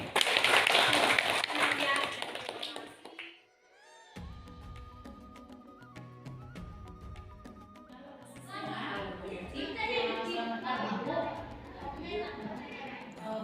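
Classroom audience applause during a teachers' coaching session, a burst of dense clapping at the start that fades within seconds, followed by quieter mixed sounds and a return of scattered clapping and voices later.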